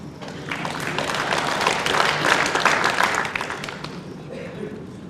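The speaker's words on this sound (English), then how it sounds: "applause there for Gourlay" Spectators at a 1999 World Bowls singles match applaud, a swell of clapping that peaks in the middle and fades away, with a commentator's voice over it.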